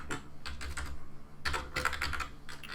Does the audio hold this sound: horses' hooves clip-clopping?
no